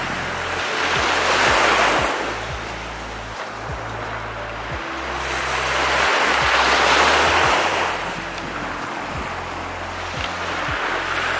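Ocean surf rolls onto the beach at Gulf Shores in a steady roar that swells and recedes in slow surges, with gusty wind buffeting the microphone throughout.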